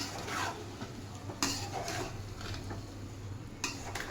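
Kala bhuna, a dark spiced curry, being stirred in a cooking pot, giving a steady low scraping bed broken by a few sharp metallic clinks of a spoon against the pot, fairly close, with no talk.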